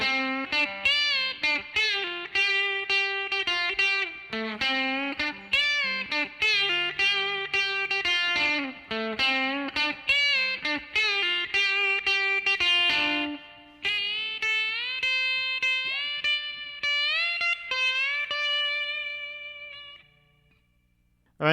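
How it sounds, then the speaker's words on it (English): The electric guitar solo from a song, played as a lesson demonstration with a distorted tone: quick, punchy single-note phrases in a driving rhythm, then sustained bent notes ringing out and fading at the end. "Okay, then we got the guitar solo."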